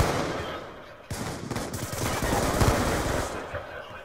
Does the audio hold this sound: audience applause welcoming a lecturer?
no